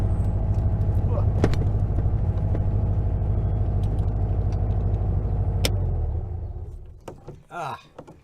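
A 1956 VW Bug engine rumbles steadily from inside the car during a ride, a low continuous drone with clicks and knocks, before it dies away and a voice speaks near the end.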